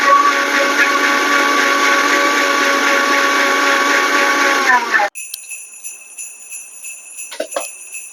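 A kitchen blender whirs with a loud, high, steady whine as it purees curry leaves into juice, then cuts off abruptly after about five seconds, leaving a quiet room with a few faint knocks.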